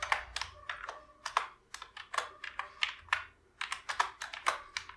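Someone types C# code on a computer keyboard, a close, fairly quiet run of crisp key clicks in uneven bursts and short pauses, with no talking.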